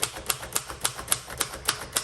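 Typing on a 1958 Royal Aristocrat manual typewriter: a steady run of about a dozen crisp, close keystrikes, each a sharp clack at an even, unhurried pace, with no voices.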